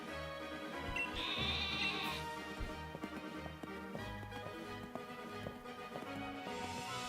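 Sheep bleating in a video game, repeated bleats over a busy layer of game music and light tapping sounds.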